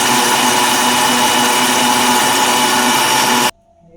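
An electric blender grinds apples, dates and fresh cream into a milkshake with a loud, steady high-pitched whir that holds constant, then cuts off abruptly, leaving near silence.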